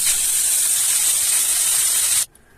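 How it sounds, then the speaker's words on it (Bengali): Rohu fish pieces hit hot oil in a kadai with a loud, steady, bright sizzle that holds for about two seconds, then cuts off abruptly to near quiet. "দেখুন তেলটা গরম হয়ে গেছে, এবার আমি মাছগুলো দিয়ে দিচ্ছি।"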